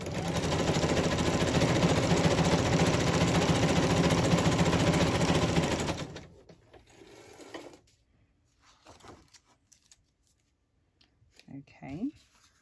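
A sewing machine runs a fast, loud zigzag stitch across the top of a decorated altered book for about six seconds, then stops abruptly, leaving quiet handling noises and a few faint sounds.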